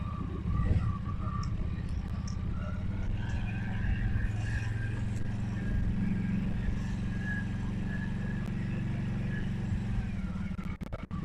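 A Yuki Funrider 125 motorcycle's small engine runs at a steady idle of about 1800 to 2000 rpm during a short ride, a continuous close drone that barely changes.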